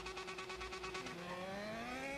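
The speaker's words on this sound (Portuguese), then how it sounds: "arrancadão com a XJ6" A Yamaha XJ6 turbo motorcycle launches hard from a standstill on a city street, its engine note climbing steadily in pitch through a fast pulsing roar, loud and close, with no voices.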